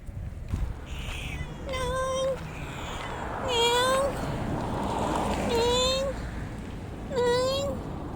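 A friendly stray cat meows in a vacant lot, giving four drawn-out, rising cries spaced a second or two apart, close and fairly loud over a low outdoor background.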